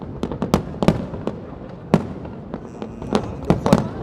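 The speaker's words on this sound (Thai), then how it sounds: "เขาบอกว่าปีนี้ที่ไอคอนสยามจุดพลุยิ่งใหญ่กว่าปีที่แล้วนะฮะ" New Year fireworks over ICONSIAM on the Bangkok riverside, with sharp bursts and crackling booms going off irregularly at a moderate distance, several loud cracks in quick clusters over a steady crowd and city rumble.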